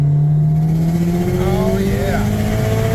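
A Subaru running on E85 accelerates hard in third gear, its loud, close engine note climbing steadily in pitch over a deep rumble.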